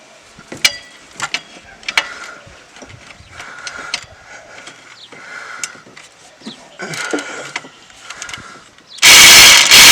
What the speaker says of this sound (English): Lazy man's ratchet.